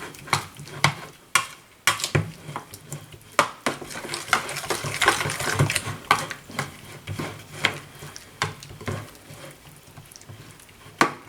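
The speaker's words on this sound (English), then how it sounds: "And we'll just stir that in." A spoon repeatedly scrapes and taps against a bowl while roasted tomatillo salsa ingredients are stirred together, producing irregular close clinks and wet, mushy swishes with no talking.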